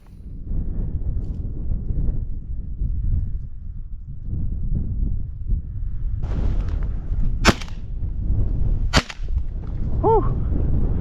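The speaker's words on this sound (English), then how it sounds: "at least she heard that gunshot" Two sharp, loud shotgun blasts crack out a second or so apart during a chukar hunt in windy open country. Steady wind buffeting rumbles underneath, and a short whistle-like call follows the second shot.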